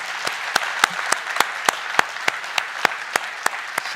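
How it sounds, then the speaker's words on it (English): A crowd at a research awards ceremony applauds steadily, with sharp claps punctuating a continuous wash of clapping throughout, fairly close and no talking. "Let's have another round of applause for Violetta."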